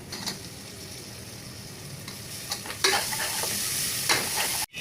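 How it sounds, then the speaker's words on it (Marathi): Chopped tomato and onion with turmeric and curry leaves frying in a pan, a continuous hiss of sizzling oil that grows louder partway through as the mixture is stirred, ending in an abrupt cut. "आपण आता बारीक चिरलेला टोमॅटो घालूया."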